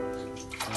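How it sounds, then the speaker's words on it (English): Four cups of water pouring into a pot for a chicken dhansak, a short steady close-up rush of running water with a rising gurgle as the pot fills. "To this we will add 4 cups of water."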